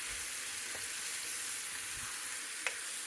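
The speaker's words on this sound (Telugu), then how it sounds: "ముందుగా ఇలా మసాలాలని పచ్చివాసన పోయే వరకు వేయించుకొని" Spices and a spoonful of mustard seeds hiss and crackle in hot oil in a pan for a mutton curry, a steady close sizzle with a couple of faint stirring scrapes.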